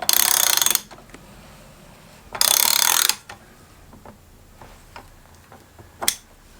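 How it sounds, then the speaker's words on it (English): A ratchet tool clicking in two long rapid bursts while a motorcycle fork top cap is tightened on a 2014 Ducati Multistrada, then a few softer clicks and one last short burst. "I should be able to tighten up the top cap"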